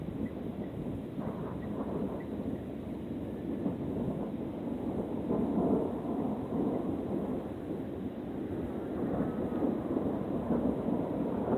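Rolling thunder from a lightning storm high in the clouds, a continuous low, distant rumble that swells and fades without a break or a sharp crack, with no voices.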